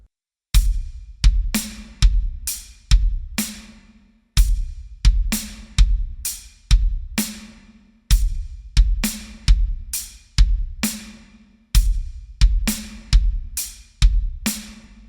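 A drum kit plays a slow groove exercise, with bass drum on quarter notes. Crisp, evenly spaced hits with cymbal and snare accents repeat in a steady rhythm, close and alone.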